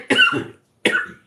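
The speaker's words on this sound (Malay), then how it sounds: "Batuk pula." Two harsh coughs close to the listener, separated by a short silence, each a sharp burst trailing off quickly.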